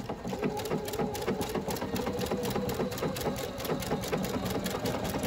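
A sewing machine runs steadily, stitching long maxi stitches along a projected grid and stitch guide, with a fast, even mechanical rhythm and no talking.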